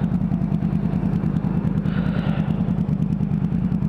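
Motorcycle engine running steadily during a ride, a close, loud, rhythmic mid-pitched putter with rattling clatter and a brief rise in rushing wind noise midway.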